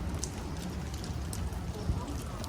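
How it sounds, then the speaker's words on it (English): Rain coming down outside, a steady, faint patter and hiss of drops with a few brighter splashes, heard continuously in the background. "Fucking raining out right now."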